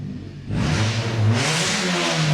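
A Honda Civic hatchback's little four-cylinder engine, fitted with a rev limiter, revs hard as the car drives in close by, a loud raspy drone rising and falling in pitch with no talk over it.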